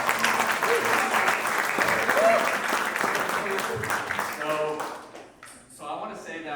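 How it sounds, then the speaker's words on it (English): An audience at a university magic competition claps loudly for the event staff. The applause is dense and sustained, then thins and fades toward the end as a voice begins to come through. "I really want to give a big round of applause for the Challenge staff."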